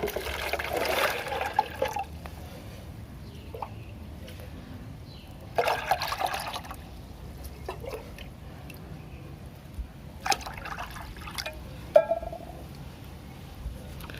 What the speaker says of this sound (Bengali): এরপর আপনারা এই যে জায়গাটা নিয়েছেন এতে কিন্তু পুরো জল ভরে দিতে হবে